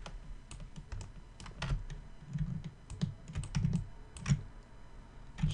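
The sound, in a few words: typing shortcut keys on a computer keyboard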